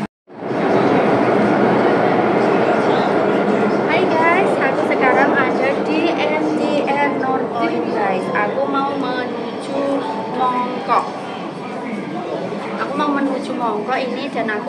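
A subway train rumbles and hisses steadily through a station in North Point, Hong Kong, loud and close, with people talking over the continuous mechanical roar.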